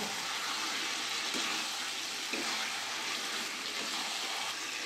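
Chicken pieces with spices being stir-fried in a pan for a chicken curry, giving a steady broadband sizzle that stays even and close throughout, with a couple of soft stirring knocks.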